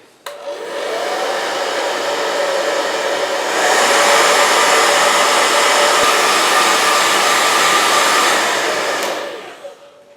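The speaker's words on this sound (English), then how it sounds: "the hair dryer part." A hair dryer blows steadily and loudly for about ten seconds while drying oil-paint weathering, its whine rising in pitch and volume partway through before cutting off.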